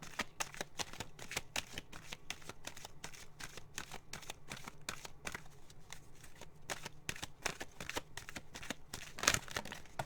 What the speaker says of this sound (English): Now I'm just going to get one of these oracle cards here.